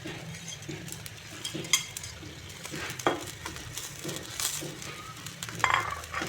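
Small puti fish fry in an oiled pan with a continuous low sizzle, punctuated by occasional clinks and scrapes of a utensil stirring them.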